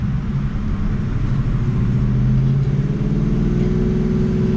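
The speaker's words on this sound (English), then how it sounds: "do like a couple of slow little revs like this" A 2019 Ford Mustang GT engine running an E85 flex-fuel tune idles with a deep, steady rumble and swells in slow, gentle revs, close by and continuous throughout.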